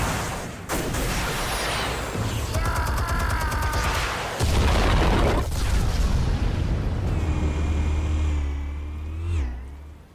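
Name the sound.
explosives detonating in the video game Batman The Telltale Series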